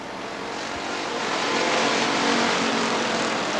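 Race cars on the oval at Rockford Speedway roar through the turns as a dense, continuous engine drone that swells slightly as the field passes, heard from a distance without commentary.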